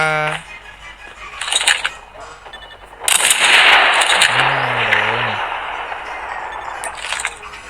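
Bursts of Call of Duty gunfire followed by a long, loud rumbling explosion, with brief clinks and tonal effects; a voice briefly speaks.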